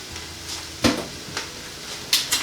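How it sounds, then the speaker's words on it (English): Beans tipped into a colander for a vegan three-bean chilli, a few sharp clattering impacts and rattles spaced over a couple of seconds, close and moderately loud with no talk. "I'm just going to tip them straight into the colander."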